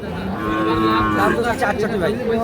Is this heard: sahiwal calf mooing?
yes